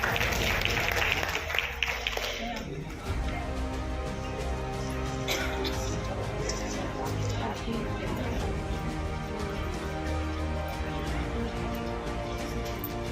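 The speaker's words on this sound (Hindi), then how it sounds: "दीदी के लिए जोरदार तालियां।" Applause from the seated audience at a women's empowerment event, greeting someone speaker; broadband clapping over the first three seconds, then fading under steady music and talk.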